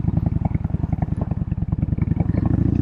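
A Yamaha Bolt 950 cruiser's 950 engine during a tight turn, a close, loud, rapid lumpy thumping exhaust pulse that stays steady throughout.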